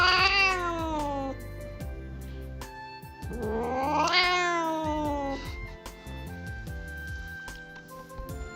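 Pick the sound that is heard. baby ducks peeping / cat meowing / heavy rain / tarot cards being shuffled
cat meowing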